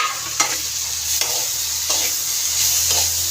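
A spoon stirring ridge gourd in a hot pan for chutney, with scraping strokes about every second over a constant loud sizzle of frying, close up and without speech.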